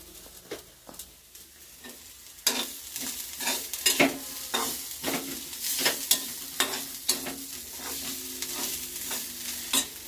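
Tandulkunjra greens stir and sizzle in a pan with Everest sabzi masala, as repeated scraping strokes and clicks sound over a soft, steady frying hiss that grows busier partway through.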